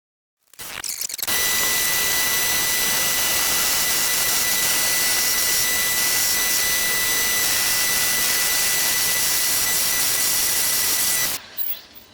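A milling machine cuts the fork clamp top yoke of a Moto Guzzi Le Mans III motorcycle, a loud, steady, high-pitched whining cut that starts abruptly, holds evenly for about ten seconds, then stops.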